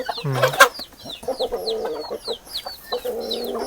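Chickens cluck on a farm in the morning, a quick burst of several calls followed by scattered nearby clucks and chirps from the flock, with other bird sounds behind and no talk.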